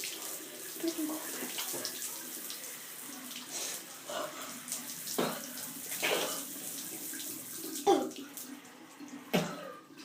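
Cold shower water pours steadily, a close continuous hiss broken by splashes and knocks as someone moves under the spray, with faint voice sounds now and then.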